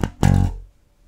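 Electric bass guitar plays the opening notes of a bass lick fill: a short plucked note, then a longer sustained low note that fades out, played solo and close.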